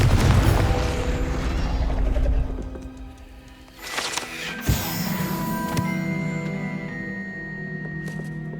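In Hogwarts Legacy, a Confringo fire spell bursts with a short booming blast midway, set against ambient cooing pigeons and bird calls, with a faint thump just before and a lingering hum of game ambience after.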